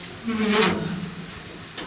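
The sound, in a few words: water tap opened on a steam engine, hissing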